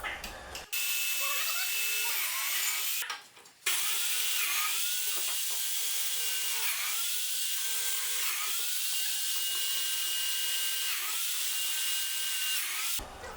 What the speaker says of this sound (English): explained the biscuit joiner to me, and then he made the slots in each of the slabs